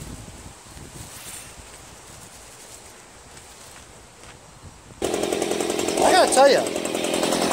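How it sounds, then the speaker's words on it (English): A gas leaf blower roars to life partway through, its loud, rough engine drone replacing quieter background noise and holding steady to the end, while someone speaks over it. "I'm gonna blow all this stuff out with my leaf blower."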